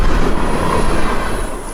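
Freight train M604, a 183-car, 10,412-foot consist of phosphate hoppers, empty tank cars and yellow boxcars with a mid-train GE unit, rumbles steadily past up close, with a constant broadband roar and a thin high squeal above it.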